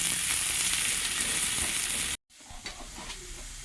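Onion, garlic, dried chili and black cumin frying in a pan for masoor dal, loud steady sizzle with stirring scrapes that cuts out briefly and returns quieter.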